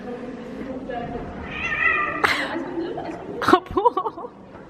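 A cat meows a few times amid people talking and chuckling at a university campus, the calls rising and falling close by.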